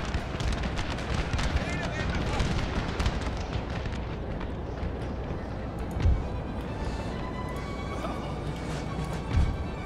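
Artillery cannon fire in Napoleon: Total War, a continuous roar of distant booms and crackling musket-like shots across a battlefield, with a couple of louder blasts standing out, voices faintly mixed into the din.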